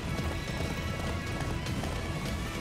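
Rapid hoofbeats of a galloping horse in a video game, a dense continuous clatter of thuds at even volume, with no talking.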